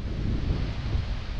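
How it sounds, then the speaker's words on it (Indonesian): Strong wind gusts batter a camper van parked outdoors in the Flores region of East Nusa Tenggara, producing a loud, continuous low roar and buffeting across the microphone with no speech. "Dia anginnya sesekali tapi kencang kali."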